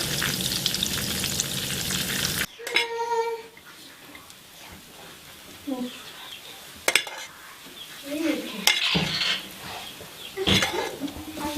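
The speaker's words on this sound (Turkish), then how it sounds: "Yağ kızartıyoruz biraz da." Loud hissing sizzle of butter frying in a pan, then a quieter steady sizzle broken by clinks and scrapes of a utensil.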